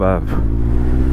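A Yamaha FZ1 Fazer 1000 motorcycle hums with a steady low engine note, loud and close, with someone talking briefly at the start.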